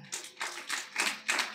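A church congregation claps hands in rhythmic bursts, four swelling waves of many hands striking together, moderately loud and fairly close, with no talk over them.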